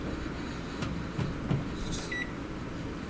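A few short electronic beeps from a microwave oven, fairly clear over a low background hum.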